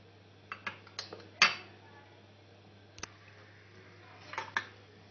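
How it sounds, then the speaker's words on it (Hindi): Steel spoon stirring vermicelli in a cooking pot, a few scattered metallic clinks and scrapes against the pot's side, close and fairly quiet over a low steady hum. "हमें लगातार चम्मच जो है वो हिलाते रहना है"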